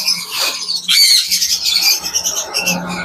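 Pet lovebirds in a bird shop give loud, close, shrill squawks and chirps in quick overlapping bursts.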